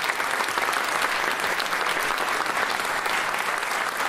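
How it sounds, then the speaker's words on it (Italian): Audience at a local theatre revue applauds the composer seated in the hall: sustained, dense clapping from many people, steady and fairly loud for several seconds. "un grosso applauso a lui."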